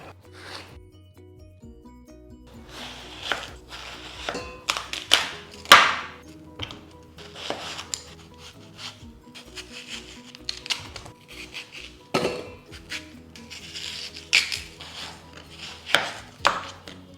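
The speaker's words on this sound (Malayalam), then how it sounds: "അപ്പൊ നമുക്ക് വാട്ടർമെലന്റെ ഒരു ചെറിയൊരു ഭാഗം നമുക്ക് കട്ട് ചെയ്തെടുക്കാം കേട്ടോ. എന്നിട്ടൊന്ന് അത് പീസാക്കി എടുക്കണം." Repeated knife chops and slices through watermelon on a cutting board, irregular thuds and crisp cuts close up, some louder strikes scattered among softer ones, with no talking.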